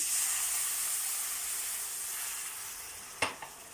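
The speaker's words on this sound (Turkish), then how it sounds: "Şimdi unu bir güzel kavurduktan sonra sütümüzü ilave ederim, edelim içerisine." Roasted flour in a pan for béchamel sizzles and hisses, fading slightly, then two sharp knocks of a utensil on the pan ring out near the end.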